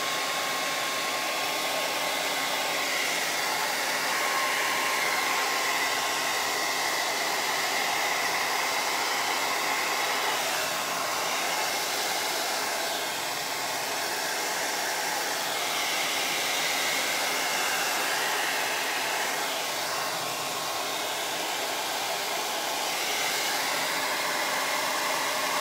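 A hair dryer blows steadily and loudly to dry acrylic paint on a small wooden pumpkin sign, a constant close whoosh that holds for the full stretch without any speech.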